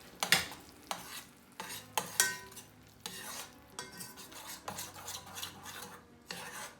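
A utensil stirs chocolate sauce for a bean chocolate brownie in a bowl. Quiet, regular scraping strokes come about every half second to second, with faint clinks against the dish.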